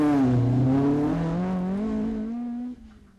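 Rally car engine on a stage at the Jersey Rally holds a loud, close, steady high rev, its pitch dipping and climbing before falling away abruptly near the end.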